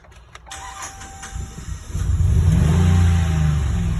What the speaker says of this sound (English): this engine makes a hell of a lot of noise